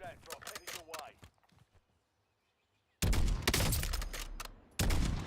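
Gunfire in Call of Duty Warzone set in Verdansk: a quick volley of shots, a brief lull with faint background, then loud sustained automatic fire in two long bursts, with a voice speaking at the start.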